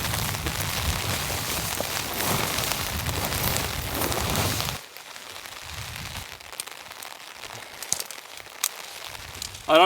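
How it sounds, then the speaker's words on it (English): Dense pattering of freezing rain striking a tent surface during a snowstorm, heavy for the first half then thinning to scattered taps and rustles. "It's like ice rain."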